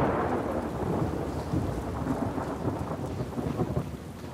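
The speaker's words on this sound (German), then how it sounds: "Es donnert das auch noch, ey." Heavy thunder rumbles beneath steady pouring rain in The Last of Us 2, a loud continuous storm roar with low rolling peaks and no voices.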